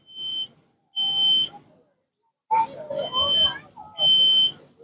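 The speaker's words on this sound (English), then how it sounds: "Smoke alarms is a great tool as well to alert you." A smoke alarm sounds at a fire rescue open house live fire demonstration, giving three loud, piercing beeps at a steady pace, with people talking over and between them.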